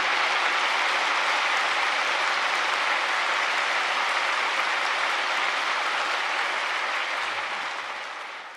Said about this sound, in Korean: 큰 박수 해주시면 감사드리겠습니다.